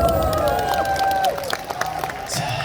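Fans at a singer's fan meeting applaud and cheer as the first segment begins, with lively clapping and crowd noise at moderate level, a fading musical tone in the first half and background voices.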